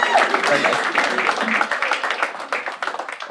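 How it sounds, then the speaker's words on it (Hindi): A stand-up comedy audience claps for Payal in a brief burst of applause that thins into scattered claps, with talking over it. "एक बार पायल के लिए ताली बजा दो."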